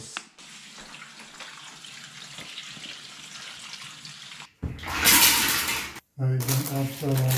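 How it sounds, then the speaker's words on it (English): Mussels are rinsed under running water with a soft, steady trickle, then a louder gush of tap water starts, stops briefly and resumes; a few faint clatters are heard. "I'll open the mussels and I have to rinse the mussels"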